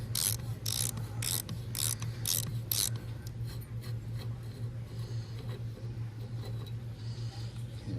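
A thread-restoring tool works the damaged threads of an outdoor hose bib faucet, with a burst of rapid rasping metal strokes followed by quieter grinding and scraping over a steady low hum.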